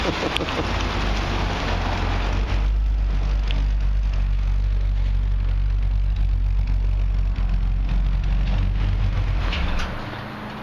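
Outdoors at a Chevrolet dealership, a Corvette Z06 idles after a test drive, a deep steady rumble under a broad hiss like rain, fading slightly at the end.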